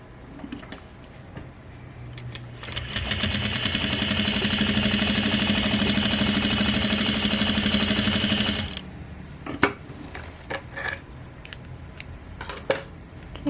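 A Juki DDL-8700 industrial sewing machine runs in one steady, even whir for about six seconds, then stops; a few light clicks and handling knocks follow nearby.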